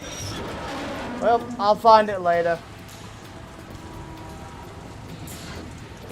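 Steady rain falls in the Metal Gear Solid video game, a soft continuous hiss heard under a short spoken line before carrying on alone.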